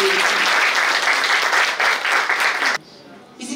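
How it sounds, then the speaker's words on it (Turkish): Audience applause fills a hall at a certificate ceremony for literacy course graduates, a dense steady clatter of many hands that cuts off abruptly near the end, leaving a quiet pause before faint sound returns. "Bence kendinizi bir alkışlayın."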